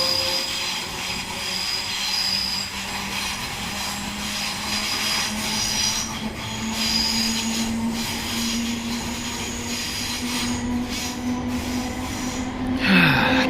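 Class 321 electric train traction motors whine with a rising tonal pitch above a steady rolling rumble, with occasional squeals near the end.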